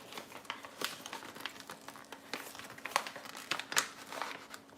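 Plastic packaging on a bag of grated cheese crinkles and crackles as hands work at it, sharp irregular rustles in a kitchen at close range.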